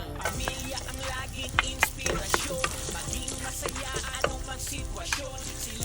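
Garlic frying in a pan for balbacua, the Visayan beef stew, giving a steady crackling sizzle broken by frequent spatula scrapes and taps, close and fairly quiet, with no speech.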